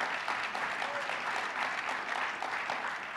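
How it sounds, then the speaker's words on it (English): Sustained audience applause at an awards ceremony, steady and dense throughout with many hands clapping at once, filling a hall. "So a big round of applause to Nancy."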